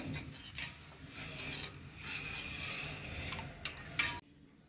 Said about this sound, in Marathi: सतत हलवायचं